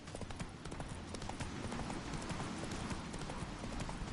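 Hooves of Roach, the horse in The Witcher 3, clopping in a steady quick rhythm over a rumbling outdoor game soundscape, fairly loud and continuous throughout.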